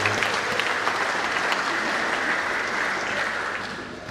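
An indoor crowd at a church building inauguration claps steadily, a dense, sustained round of applause that slowly fades toward the end.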